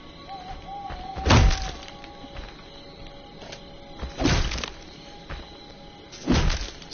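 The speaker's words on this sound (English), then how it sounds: "She just knocked my computer off the bed." Three dull, heavy thuds a couple of seconds apart as a computer is knocked off a bed, with faint background hum and tones between the impacts.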